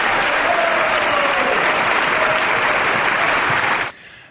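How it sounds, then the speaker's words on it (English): Sustained loud applause from the audience at the president's State of the Union address, a dense continuous clapping that cuts off abruptly near the end. "That moment tonight in the speech was probably one of the biggest applause that the president got"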